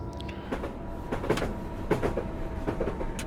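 A train braking at 50% in Train Simulator 2015, a rolling rail rumble with irregular clicking and clacking of wheels over joints, moderately loud and steady, no speech.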